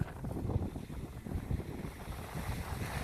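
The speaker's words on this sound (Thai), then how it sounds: "ลมดังบือๆเลยนะครับ เพราะว่า ช่วงนี้ลมแรงครับ" Strong wind gusts along a city street in South Korea, buffeting the microphone with a heavy, fluctuating low roar and rumble throughout, with no talking.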